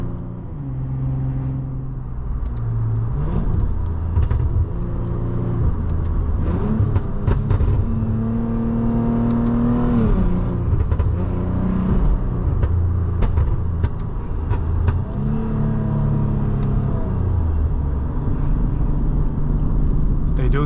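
A Lexus IS250 engine hums and rumbles steadily while the car is driven, with gear changes and rising and falling revs, sitting loud and close under the cabin.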